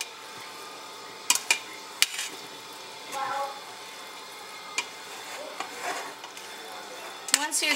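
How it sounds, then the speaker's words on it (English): Pasta noodles tossed in a pot with simmering shrimp scampi sauce: soft stirring and a low sizzle run throughout, broken by several sharp utensil clanks against the pot, with no talking. "You want to go ahead and toss your noodles with your sauce that's been simmering."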